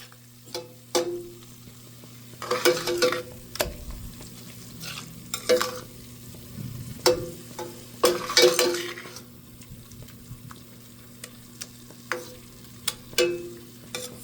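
Ingredients are stirred in a sizzling pan, with repeated close metallic scrapes and clinks over a steady frying hiss.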